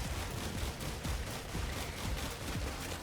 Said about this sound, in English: I'm just gonna use the gun.